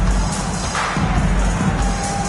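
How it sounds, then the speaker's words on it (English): A basketball arena crowd cheers loudly and steadily at a 1990s NBA regular-season game between the Washington Bullets and Indiana Pacers, a dense continuous roar filling the whole stretch. "the crowd showing their appreciation for an incredible performance"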